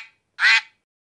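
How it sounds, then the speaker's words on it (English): A duck gives one short, nasal quack, loud and close against silence, with a faint trace of a previous call trailing off at the start. "I am a duckling."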